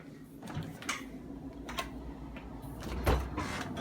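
Plastic vegetable drawers are pulled out of a GE Profile refrigerator, giving several scraping slides and clunks spread irregularly over a few seconds, close by, with no talking.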